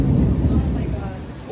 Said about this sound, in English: I don't think I've ever seen so much lightning in like within such a short time period.